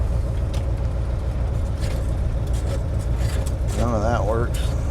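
An old pickup truck from the 90s runs with a steady low engine rumble, close up, while a voice talks over it and a brief rising-falling whine is heard near the end.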